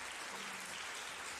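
Audience clapping steadily at a live fan-battle show, a dense continuous patter of applause filling the whole moment without any talk over it.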